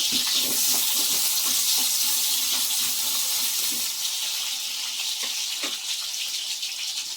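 Onions frying in hot oil in a pan for a home-style chicken curry, giving a steady, close, dense sizzle with small crackles throughout and no talking.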